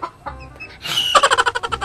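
A chicken in a coop clucks close up, a few soft scattered clucks building into a loud, rapid run of rhythmic squawking clucks near the end.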